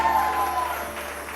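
A short burst of studio audience clapping on a TV morning show, continuous and moderately loud for just over a second.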